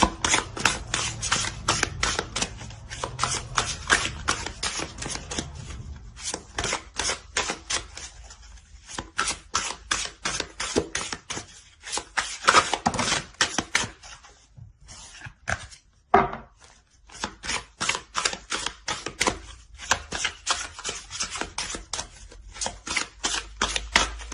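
Tarot cards shuffled and drawn by hand, a long run of rapid, crisp riffling clicks in quick bursts with brief pauses and a sharper slap now and then, close-up and loud with no talking.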